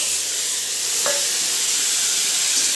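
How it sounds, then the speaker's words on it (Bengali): Eggplant pieces fry lightly in a pan with a loud, continuous sizzle and hiss up close, broken briefly by one stirring scrape. "তো বেগুনগুলোকে হালকা করে একটু ভেজে নেব।"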